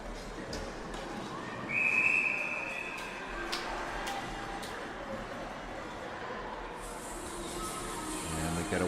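A referee's whistle at an under-16 ice hockey game between Canada and the USA gives one shrill, steady blast over arena crowd noise and talk.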